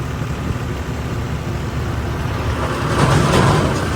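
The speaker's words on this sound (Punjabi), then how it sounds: "ਦੇਖੋ ਟਰਾਲਾ ਕਿੱਥੇ ਦੇ ਕੱਢ ਕੇ ਲੈ ਕੇ ਜਾਂਦਾ ਨਿੱਗਲ ਟਰੈਕਟਰ ਹੈ" A tractor engine pulls a loaded trailer, making a steady, loud, broadband rumble that swells slightly toward the end. No voices are heard.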